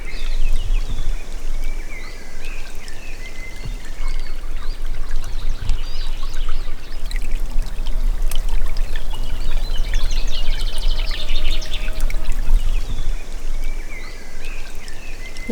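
A small stream of water runs steadily beside a sunken, muddy forest road, a continuous close trickling and gurgling with birds calling now and then and a low rumble underneath.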